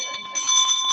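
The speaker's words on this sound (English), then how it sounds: "let's ring his bell." A bell is rung at a board meeting, giving bright, sustained metallic ringing tones with a few quick strikes over about a second.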